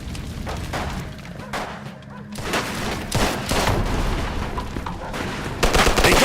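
Video game gunfire in Mafia II: repeated bursts of rifle and machine-gun shots with booming impacts, loud and dense, overlapping and continuing with brief gaps between volleys.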